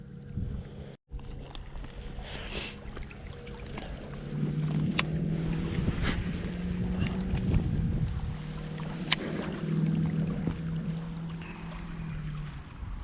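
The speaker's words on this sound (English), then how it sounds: "The wind's back." Steady wind rushes and buffets the microphone on a fishing boat out on open water, with low rumbling gusts that rise and fall and faint knocks from the boat.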